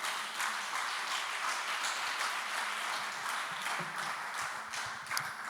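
A church congregation breaks into sustained applause as an offering of praise, a continuous wash of clapping from many hands, moderately loud and even, with no talking over it.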